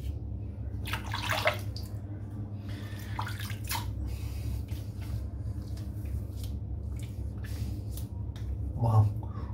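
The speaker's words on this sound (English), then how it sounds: "It's rinsing out pretty much spot on now." A wet shaving brush loaded with Tabac soap is rinsed under running water: close splashing and squishing in bursts over a steady low hum, with a bit of faint talk.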